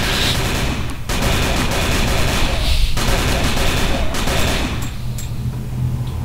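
Sustained, dense gunfire from the Call of Cthulhu video game, loud and continuous with overlapping bursts and booms that break off briefly twice, ending in a lower rumble.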